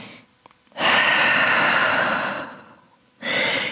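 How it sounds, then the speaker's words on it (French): Deep, audible breathing in downward dog during a vinyasa yoga session: one long, loud breath up close, then a pause and another breath beginning. "Grande respiration en chien tête en bas."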